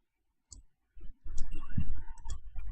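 Computer mouse clicks during work in Solidworks software, a few sharp close clicks at the start, then busier desk noise with more clicks, no talking.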